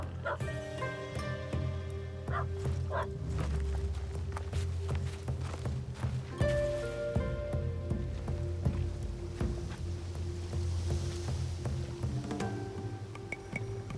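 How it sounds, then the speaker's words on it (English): A dog barks repeatedly in Assassin's Creed Shadows, mid-distance sharp yaps over a busy game soundscape of footsteps, hooves and low rumbling ambience, with scattered clatter throughout. "And will someone please silence that damn dog?"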